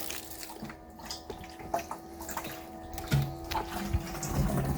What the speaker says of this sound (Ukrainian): Ось вже йде водичка. Це 300-метровий шланг.